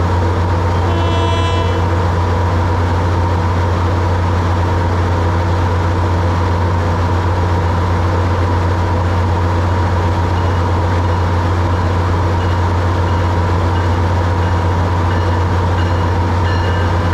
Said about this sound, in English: Bell clangs on blue-striped Shoreliner cab car 6129 as 1889 rolls to a stop